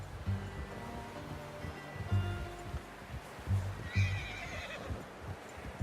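A horse whinnies twice in Red Dead Redemption 2, the neighs standing out over soft hoof clops and an outdoor ambience.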